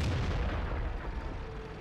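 A single tank cannon shot in World of Tanks, a loud, heavy low boom that fills the short moment and rolls off, with no talking over it.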